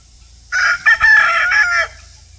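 Homestead minifarm chickens behind a fence let out a loud, close rooster crow, a sustained ragged call lasting about a second and a half after a short opening note.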